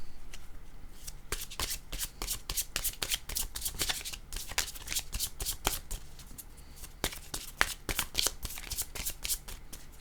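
Tarot-style cards being shuffled by hand in rapid repeated riffles and slides, close and crisp, the bursts of flicking coming in quick clusters with short pauses between them, and no talking.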